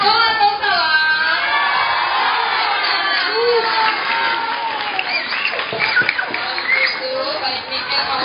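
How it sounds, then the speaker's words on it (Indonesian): Schoolchildren at SDN Pulogadung 01 Pagi elementary school burst into loud classroom applause, with a few whoops, shouts and excited chatter mixed into the sustained clapping. "tepuk tangan sekali lagi untuk Ali dan Niken"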